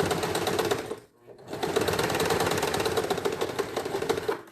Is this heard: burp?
no